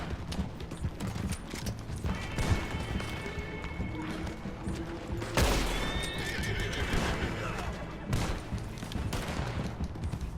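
A horse in Red Dead Redemption 2 Online neighs and whinnies, with clip-clop hooves and scattered gunfire and crashes in a busy game scene, one loud whinny cutting through midway.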